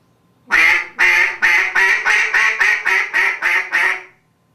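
A duck call honks out about ten quick, nasal quacks in a steady descending series, loud and close, with no other sounds.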